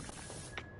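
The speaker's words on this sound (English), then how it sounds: "Here, I'll spray it in the ceiling." Pressure washer spray in PowerWash Simulator, a steady close hiss lasting under a second with a slight surge near the end.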